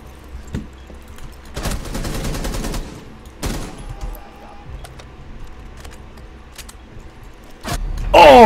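Bursts of automatic gunfire from the Rainbow Six Siege shooter, rattling volleys of rapid shots with sharp single cracks between them and a heavier burst at the end, loud and close with no talk.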